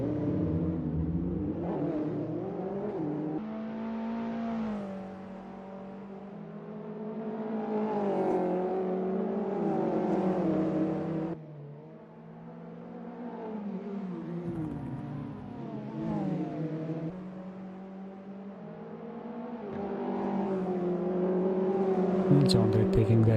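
TCR touring race cars racing and braking on track, engines droning and rising in pitch through repeated acceleration sweeps, then dropping under braking, with a commentator talking throughout.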